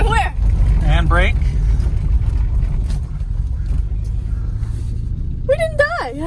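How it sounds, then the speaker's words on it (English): A 1973 Triumph Spitfire 1500 driving with gear changes, its engine a steady low rumble filling the cabin while people talk over it. "Then clutch in, put in second gear, straight down."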